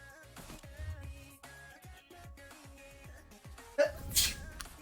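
A single sharp sneeze bursts out near the end of a stretch of quiet background music and game sounds during a stream.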